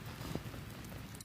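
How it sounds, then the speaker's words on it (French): Steady rain falls outdoors during a live stream, a dense, even patter hissing across the whole clip with no voices. "je crois que la pluie va gâcher le direct."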